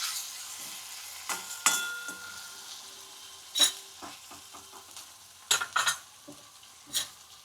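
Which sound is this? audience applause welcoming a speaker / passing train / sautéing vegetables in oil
sautéing vegetables in oil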